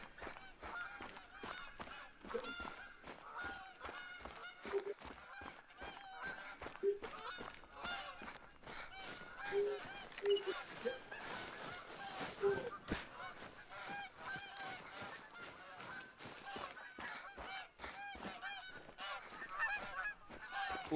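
Geese honk repeatedly in the PC hunting game theHunter: Call of the Wild, a flock calling in a steady, overlapping stream of nasal honks against outdoor ambience.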